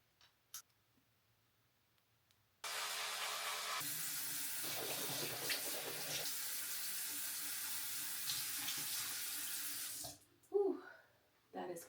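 Cold water runs steadily from a bathroom tap into a sink for about seven seconds, a loud continuous splash after a near-silent start, then stops, followed by brief splashing as it is used.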